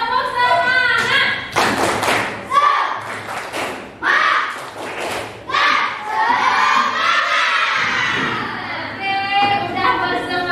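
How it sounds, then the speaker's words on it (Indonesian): Schoolchildren in a classroom performing a rhythmic clapping chant, bursts of shouted voices alternating with sharp group claps and thumps, loud and close. "Kita tepuk semangat dulu ya."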